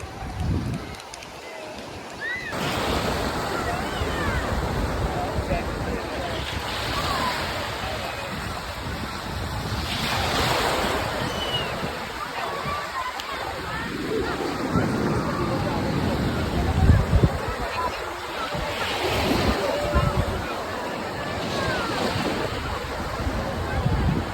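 Sea waves wash onto a beach in Italy in slow, repeated swells, mixed with steady wind buffeting and broad surf noise, with faint voices in the background.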